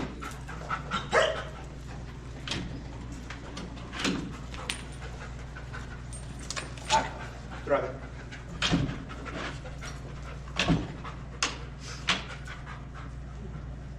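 A police K9 dog pants rapidly and steadily at close range during search training, with a handler talking over the breathing and some footsteps and movement noises.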